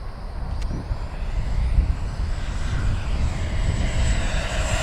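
Continuous engine roar of an E-flite F-16 70mm electric ducted-fan RC model jet, loud and steady with a whooshing rush as it flies by, buffeted by wind.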